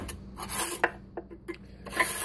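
Scraping old residue from the gasket channel of a wood stove door, short rasping strokes in an uneven rhythm, close and moderately loud, alone.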